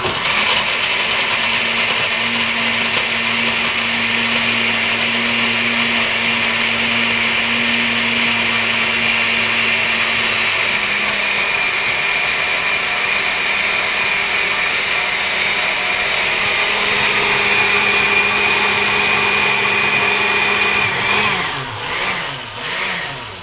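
Kitchen blender running on its mix setting, a loud steady motor whine with a shifting pitch as the contents churn, winding down near the end, no talking.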